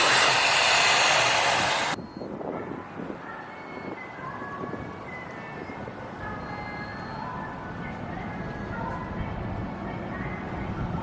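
A loud blast of air from an automatic sink-mounted hand dryer runs for about two seconds and cuts off, leaving busy indoor restroom noise behind at a Wally's travel center in St. Louis.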